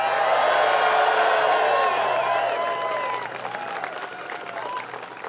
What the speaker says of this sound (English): What a great crowd we got out here.